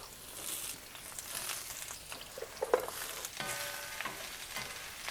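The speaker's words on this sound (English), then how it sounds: "We're going to saute these down for just a few minutes until they get nice and soft." Peppers and onions sauté in a pan for sweet and sour chicken, a soft continuous sizzle mixed with stirring scrapes and a few sharper knocks, fairly quiet and close.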